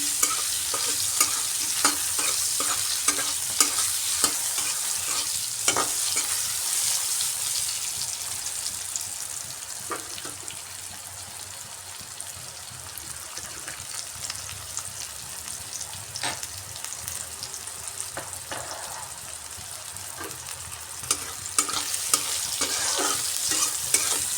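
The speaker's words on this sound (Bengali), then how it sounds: "এর মধ্যে লবণ আর হলুদ দিয়ে বেগুনগুলো ভেজে নিচ্ছি।" Eggplant pieces fry in a pan with salt and turmeric, giving a continuous loud sizzle with occasional scraping taps of stirring throughout, no voices.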